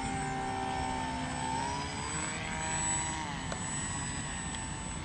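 Model seaplane flying overhead, a steady whining propeller engine drone whose pitch gradually shifts lower as it passes, moderately distant and continuous with no talk.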